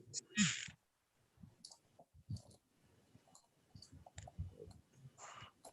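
Computer mouse clicks while a spreadsheet is opened during an online meeting: scattered sharp clicks near the microphone, quiet and irregular, with faint background noise between them.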